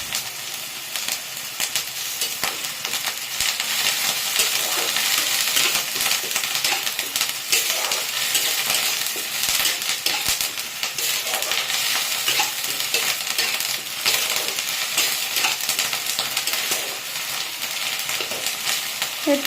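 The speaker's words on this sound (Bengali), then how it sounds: "এরপর রসুন বাটা দিয়ে দিচ্ছি।" Garlic paste frying in a pan while being stirred, a loud continuous hiss and sizzle close up with repeated scraping strokes of the spoon, and no one talking.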